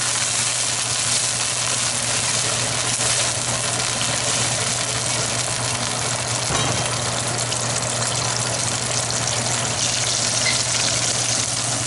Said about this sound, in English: And at this point, we're going to take and add our sherry wine. We'll bring that to a boil, and we're going to reduce this